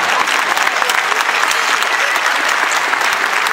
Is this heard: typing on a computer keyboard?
no